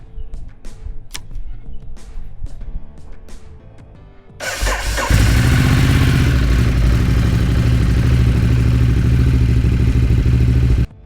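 A Ducati Hyperstrada 821 with a two-cylinder L-twin engine: the starter cranks in rough bursts, then the engine catches and settles into a loud, steady, throbbing idle close by.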